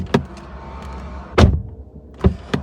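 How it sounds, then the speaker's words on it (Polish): Doors of a BMW E90 2.0d sedan with high mileage being shut, several close, solid thunks spaced apart, with one heavier slam in the middle and no talking. "sprawdźmy dźwięk zamykanych drzwi"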